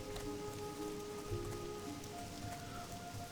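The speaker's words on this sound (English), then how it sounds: "The rain continues to pour down in Elwyn Forest." Steady rain pours down in Elwynn Forest in WoW Classic, a dense continuous hiss of drops spattering on surfaces, with faint tonal ambient hums running underneath.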